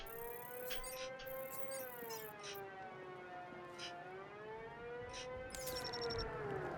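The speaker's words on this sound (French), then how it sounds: "C'est assez pénible cette sirène." A wailing siren in Batman: Arkham Knight rises and falls steadily and continuously, with faint clicks and bleeps scattered over it.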